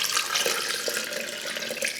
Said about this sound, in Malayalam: വളരെ ചെറുതായിട്ടുള്ള ഒരു ചൂടുവെള്ളം ഇതിലേക്ക് ഒഴിക്കുക